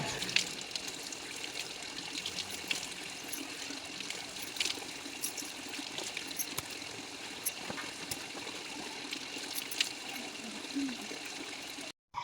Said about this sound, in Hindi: ये है हमारे गांव का धारा, ज़्यादा बड़ा धारा नहीं है